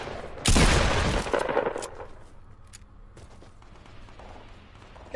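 Gunfire in Fortnite bursts in loudly as a rapid volley that rings out for over a second, then fades into quieter scattered shots and background game noise.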